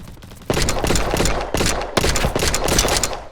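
Rapid bursts of gunfire from a video game shootout, three close, loud fusillades of quick repeated shots with brief gaps between them.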